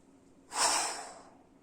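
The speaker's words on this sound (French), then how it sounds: "dès que ça deviendra inconfortable pour vous, vous expirerez fortement" A single forceful exhale during a relaxation breathing exercise, a strong breathy rush of air that swells quickly and tapers off over about a second, close and alone in a quiet room.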